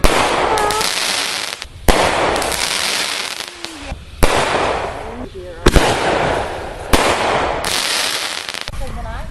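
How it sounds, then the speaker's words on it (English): Backyard Fourth of July fireworks crackle and pop in sharp bursts, several loud firecracker-like reports with fizzing between them, while people talk and shout nearby. "Well, that's pretty much the rest of the fireworks right there."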